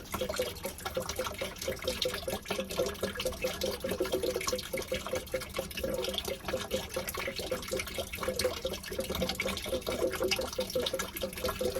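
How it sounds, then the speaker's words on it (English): Water gurgles steadily down a sink drain, a continuous close wash of sound with no talk, before pipe-pressing work continues. "I'm just waiting for this water to drain."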